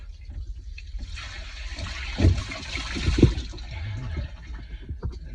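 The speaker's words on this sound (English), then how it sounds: "it's a little concerning how much water was coming out." Water gushing steadily through a boat's hull opening after the bung is pulled at a seacock fitting, a continuous rushing flow with a few louder splashes and sloshes close by.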